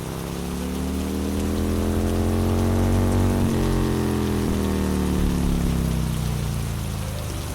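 Heavy rain pours down steadily in a dense, close hiss that fills the whole stretch without any talking.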